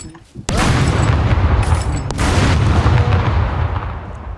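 A sudden loud grenade blast in the game SCUM booms close by, followed by a long rumbling roar and a second burst that fades slowly.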